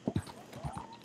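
Horse hooves in Red Dead Redemption 2 give a few quick clip-clop hoofbeats at a gallop, moderately close, with faint background noise.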